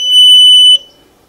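Kawasaki ZX9R Ninja motorcycle alarm chirps once as it is switched off: a loud, steady electronic beep lasting most of a second, then cutting out abruptly into near silence.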